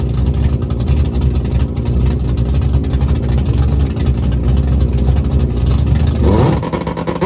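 Plymouth Belvedere drag car at the strip doing a burnout, its engine roaring loud and sustained with tire-spinning rasp, then a rising rev sweep near the end.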